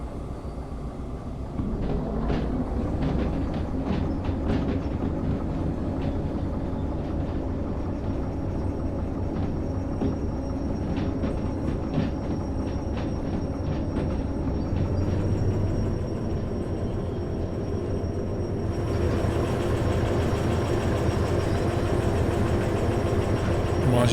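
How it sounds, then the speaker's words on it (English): Steam locomotive in the Derail Valley game rumbling along with a steady low chuffing drone throughout, a brighter hiss and clatter joining near the end, with a person talking over it at times. "The steam train is a handful."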